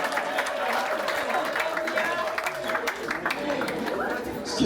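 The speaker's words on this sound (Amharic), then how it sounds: "እንደገና ከፍ ያለ ጭብጨባ እስኪ" A congregation at a live gospel worship service claps in a continuous wash of applause, with murmured voices and chatter underneath.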